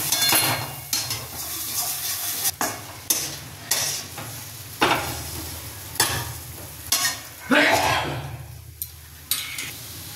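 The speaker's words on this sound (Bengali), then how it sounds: "আলু মাখাটা দিয়ে দেব। এবার নাড়তে থাকবো।" Spatula scrapes and stirs fried spice paste mixed with mashed potato in a pan for a Bengali fish ball curry, repeated clacking strokes over a low steady hum, close and moderately loud.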